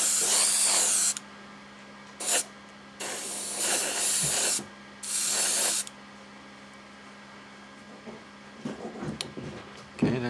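An airbrush with a 3.8 tip laying a first coat of paint on a scale model car: several loud hissing spray bursts of varying length, separated by pauses, followed by faint handling clicks and soft rustles.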